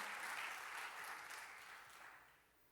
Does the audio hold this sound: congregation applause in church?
yes